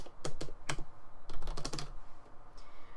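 Soft-touch keys on a Fanatec Gameboard PS2 controller keyboard tapped in quick, irregular clusters, close and fairly quiet, with short pauses between bursts.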